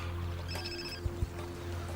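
A telephone rings in a crime mystery film scene, a quiet electronic ringing tone with a low steady hum beneath and a couple of soft thumps, no speech.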